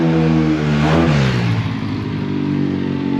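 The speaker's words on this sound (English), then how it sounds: "I think it's a night for noisy vehicles, isn't it?" A loud vehicle engine revving at night on a street in Portals Nous, Mallorca, rising to a peak then dropping into a steady lower drone as it passes nearby.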